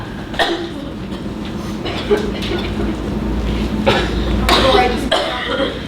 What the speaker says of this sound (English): until all of them were coughing and coughing and coughing